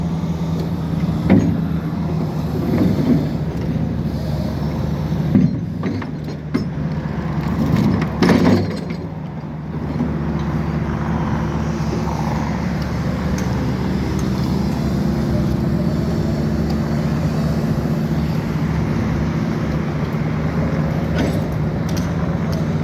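A canal boat engine on Khlong Prem Prachakorn runs with its propeller fouled by tangled cloth, a steady low droning rumble with some clattering and knocks in the first half, close and continuous.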